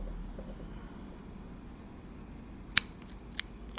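Scissors cutting at the top of the liquid flow adjustment ring of a Taifun GT4 vape atomizer, one sharp close snip followed by a softer second clip over quiet room hiss.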